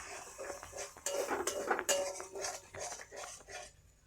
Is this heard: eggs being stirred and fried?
yes